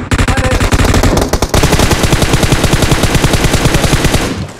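An M4 rifle in PUBG Mobile fires a long, rapid automatic burst, loud and close. There is a brief break before the sustained fire resumes and then cuts off near the end.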